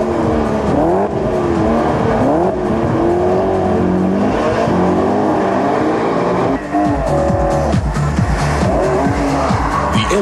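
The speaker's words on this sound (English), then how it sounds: "The M3 displays its good handling characteristics on the test track, particularly in wet conditions." A BMW M3 driven hard on a wet test track, with a loud, continuous engine note rising and falling through gear changes alongside squealing, skidding tyres, heard up close for about ten seconds.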